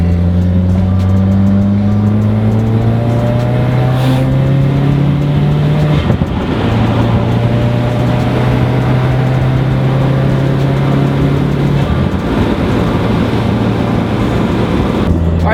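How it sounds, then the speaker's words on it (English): Subaru WRX/STI fitted with an AWE Tuning exhaust cruising at highway speed around 3,000 RPM, a steady loud engine and exhaust tone with shifting harmonics and road rumble from inside the car, no talk. "you can certainly hear the exhaust right behind you"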